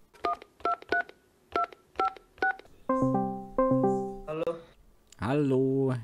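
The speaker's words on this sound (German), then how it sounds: "Ich rufe mal kurz den Sepp an." Phone dialing in the farming game Farming Simulator 19: a quick run of separate keypad beeps, then longer electronic ringing tones, loud and clear with no talk over them.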